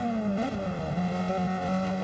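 Super Formula race cars at the Red Bull Ring, a steady high-pitched engine whine with a sustained tone and slight pitch shifts, loud and continuous with no talking over it.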